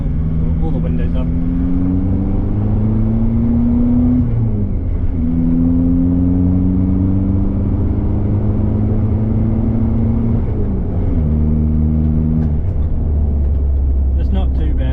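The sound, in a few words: Ford Ranger with 3-inch high-flow muffler exhaust, second-gear pull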